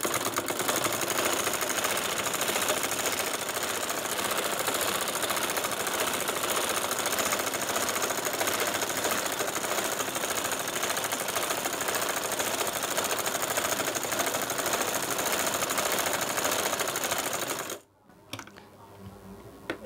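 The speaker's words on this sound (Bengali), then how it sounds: "এখন আমি আরেকটা সেলাই দিয়ে নিব।" A sewing machine stitches a size 38 palazzo seam, a fast, rapid-fire rattling hum running steadily and close for about seventeen seconds, then cutting off into near silence.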